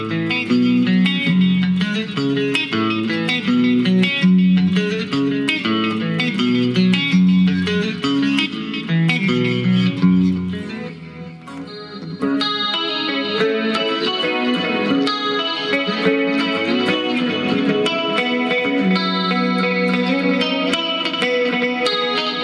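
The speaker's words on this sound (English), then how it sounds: "you can choose how quickly you want the volume to fade in and out" Electric guitar run through a Digitech RP50 multi-effects pedal with tremolo engaged, the volume pulsing in and out beneath continuous chorused, slightly distorted playing; loud and steady throughout, with no talking.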